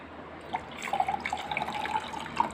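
Water poured into a glass while making a lemon drink with soaked sabja seeds, a steady light trickle with small splashy bursts, close by and moderately quiet.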